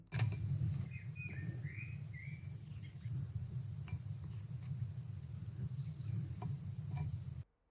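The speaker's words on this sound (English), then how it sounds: "I can hear the birds." Faint birds chirp and trill intermittently over a steady low hum, with occasional soft ticks.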